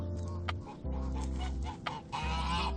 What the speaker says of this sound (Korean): 갑자기 멀리서 크리미의 울부짖는 소리가 들린다.